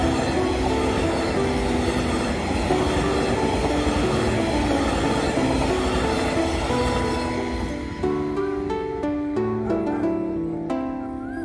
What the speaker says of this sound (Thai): ขบวนรถด่วนพิเศษอีสานวัฒนาครับกำลังจะผ่านซุ้มเครื่องกั้นน้ำฝาดแล้วครับ